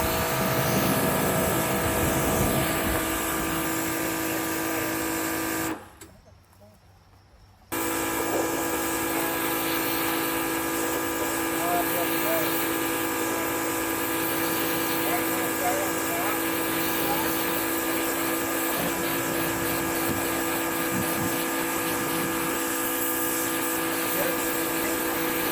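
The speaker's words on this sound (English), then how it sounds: "I got this GiRAFFE electric power washer set up" A GiRAFFE Tools Ultraflow electric pressure washer runs with a steady, even motor whine, briefly cutting out for a couple of seconds before starting again, while people talk over it.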